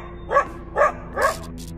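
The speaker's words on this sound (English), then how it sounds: "it was just a matter of mutual barking" A dog barks three times in an even rhythm, short sharp woofs at moderate distance with quiet pauses between.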